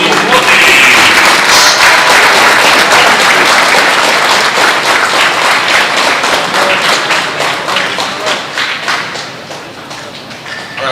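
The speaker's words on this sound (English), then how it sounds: "how about a huge round of applause for the National League rookies?" Loud, dense applause from a dinner audience at a baseball showcase welcome event, greeting the National League rookies; steady clapping fills the room and slowly tapers near the end.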